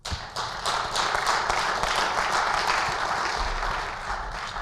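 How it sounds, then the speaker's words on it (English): A conference audience at the 18th Risks Forum applauds the speakers, sustained dense clapping that starts abruptly, holds steady and then slowly thins out. "let's give a round of applause again for all the speakers"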